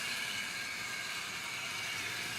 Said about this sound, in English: those nickel wheels are gripping the track nicely and it's pulling the train well